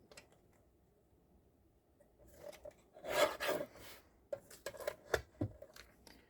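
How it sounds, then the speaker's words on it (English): A paper trimmer cutting paper for a craft project: quiet, close rasping slides of the blade, with a main cut in the middle followed by a few shorter scraping strokes. "bring out my handy dandy trimmer"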